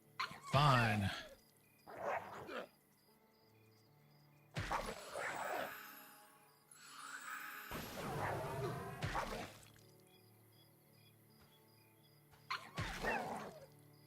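A dog in the video game Monsters & Memories gives a few short barks and whimpers, heard in brief bursts between stretches of talk over soft game music.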